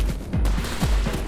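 Pistol fire in the video game Metal Garden, a rapid run of sharp shots, about five or six in just over a second, loud and close, with low booming impacts and no talk.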